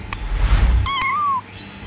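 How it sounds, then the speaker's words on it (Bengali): A cat gives a single clear meow, rising then gliding down, after a brief thump and rustle at the start. "বিড়াল ডাকে মিউ মিউ।"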